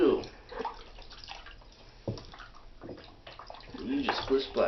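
Water sloshes and splashes in a bathtub in uneven bursts, with a voice talking softly over it.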